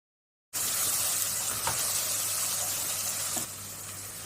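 Onions sizzle in hot oil for a boneless chicken dish, the loud, steady frying hiss starting abruptly after a brief silence and continuing evenly, with a couple of faint stirring clicks.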